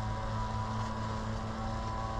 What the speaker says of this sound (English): Their landscapers are over there with their leaf blowers.